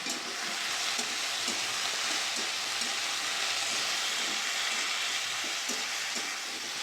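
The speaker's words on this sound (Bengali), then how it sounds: "ভালো করে সব ভেজে নেব।" Green chilies fry with turmeric and salt, spring onion greens, potato and radish in oil, producing a dense, even sizzle with light rhythmic stirring scrapes throughout.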